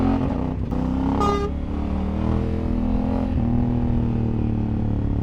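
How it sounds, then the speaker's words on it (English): A lorry horn sounds one short beep at a motorcyclist filtering through London traffic, heard over the steady near drone of the motorcycle engine and road noise. "That was me getting beeped up by a lorry."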